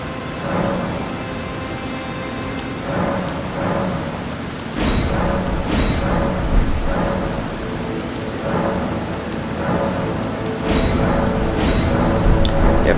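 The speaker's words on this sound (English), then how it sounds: "and then it'll stop raining" Steady heavy rain in the Elden Ring video game, with sharp thunder cracks breaking through around the fifth and eleventh seconds, loud and close with no talk.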